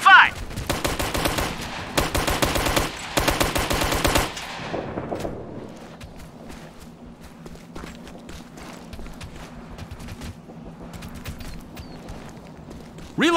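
Gunfire in Operation Flashpoint: Red River: dense, loud bursts of automatic fire for about four seconds, then quieter scattered shots and a low hum, ending with one more sharp report.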